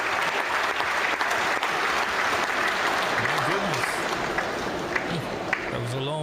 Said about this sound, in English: that was a long clap